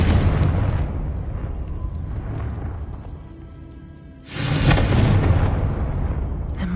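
Confringo blasting spell from the video game Hogwarts Legacy bursts with a loud broadband boom, dies down over a few seconds, then a second blast erupts and roars on without fading.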